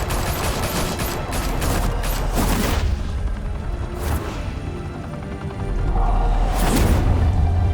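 Gunfire in the Batman Telltale Series game: loud bursts of shots and booms come in clusters over a rumbling action backdrop, with a short lull before a final heavy volley.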